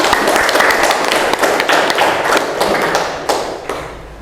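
A classroom audience claps at a university teaching session, a dense, fairly loud burst of many hands that thins out toward the end.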